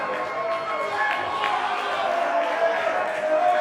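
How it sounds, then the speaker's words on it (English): Crowd at a WrestleARTS wrestling show in Indianapolis, a steady wash of cheering and chatter that holds at a constant level throughout, with no single voice standing out. "Listen to the crowd."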